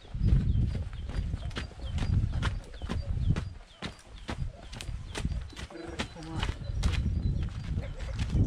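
Hooves of a Percheron stallion on a horse farm in Ukraine clip-clop in a steady, close walking rhythm while someone talks over them throughout.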